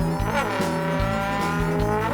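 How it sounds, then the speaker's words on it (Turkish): An animated cartoon car speeds away in a Turkish children's show, its engine revving in a loud, close whine with brief tire-squeal accents throughout. "Arabaya atladıkları gibi kaçtılar."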